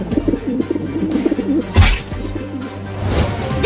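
A pigeon coos in soft repeated rounded calls, fairly close and loud, with a brief thump partway through and a low background hum.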